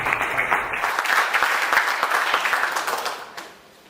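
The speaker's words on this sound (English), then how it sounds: "Let us give ourselves a hand clap." A room full of people claps together in a dense burst of applause that fades out near the end.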